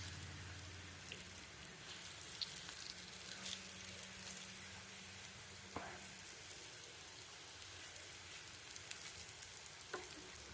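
Plantain slices fry in oil in a pan over medium flame, giving a steady, even sizzle throughout with occasional faint clicks and pops, no voices.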